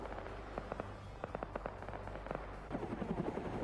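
Scattered gunfire cracks and short bursts in Arma 3, mid-distance and fairly quiet, popping irregularly over a low rumble of battlefield ambience.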